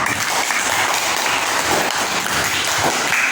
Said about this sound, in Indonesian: Berikan tepuk tangan untuk presentasi dari kelompok Elang Merah.